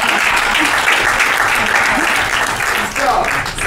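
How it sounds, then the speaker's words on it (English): A comedy show audience at the BAT Centre gives a full round of applause, dense and steady clapping filling the room, loud and close, with faint voices mixed in. "let's give her a round of applause."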